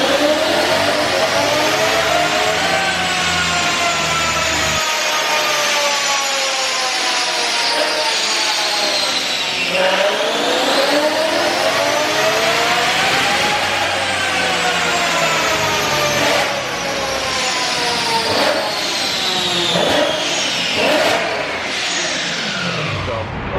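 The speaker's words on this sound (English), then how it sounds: "I'll give you guys some dyno rips of this car right now." A BMW car engine revs hard on a dyno in repeated pulls, each one climbing steadily in pitch to a loud high wail before dropping and building again.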